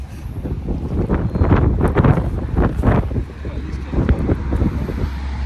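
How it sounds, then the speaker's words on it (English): Strong gusts buffet a microphone out on the water during a fishing trip, a loud, uneven rumbling roar that surges and dips throughout, with no voices. "It's windy as all get out."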